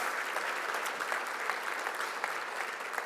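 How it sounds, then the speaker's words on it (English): Audience applause for the first award winners at an awards ceremony, a steady dense wash of clapping that holds evenly at moderate level throughout without a break. "Let's give these first award winners a round of applause"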